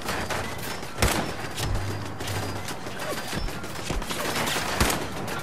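Sniper rifle gunfire in Fallout 4 sounds as several sharp, spaced cracks over a busy backdrop of more distant gunfire and mechanical clatter, fairly loud and irregular.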